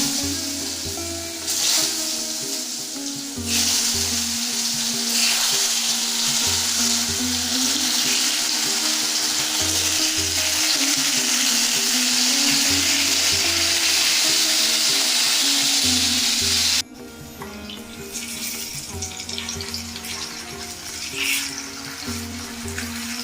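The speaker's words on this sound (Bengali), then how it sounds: "এবার আমি কুমড়োগুলোকে ভেজে নেবো" Pumpkin pieces fry in hot oil with a loud continuous sizzle, broken by a few stirring sounds, and the hiss drops suddenly to a quieter level near the end.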